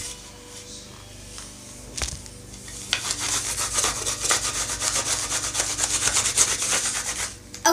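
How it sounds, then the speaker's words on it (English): Sandpaper rubbing back and forth along the edge of a wooden piece, a steady close scratchy hiss that builds after a quiet start and carries on continuously with no talk. "Now, I'm just going to finish sanding this edge, and then we should be good."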